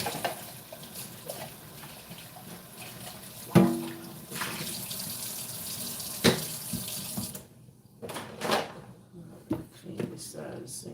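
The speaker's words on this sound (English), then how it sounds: "Clean this side of the sink out for a sec." Kitchen faucet running into a sink during dishwashing, a steady rushing stream with a few sharp clatters, then the flow cuts off and scattered knocks and clinks follow.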